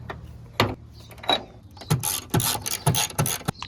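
Ratchet turning car door hinge bolts during door removal, a series of sharp clicking bursts and short rattling strokes, close and fairly quiet.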